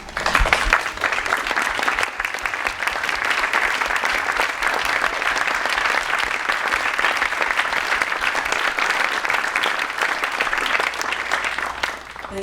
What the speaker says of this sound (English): please stand so we can applaud you.